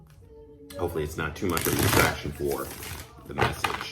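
A deck of spirit oracle animal cards is shuffled in quick, crisp riffling bursts, close and fairly loud, while a person talks over them against a rainy background.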